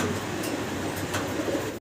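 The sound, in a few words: fancy pigeons cooing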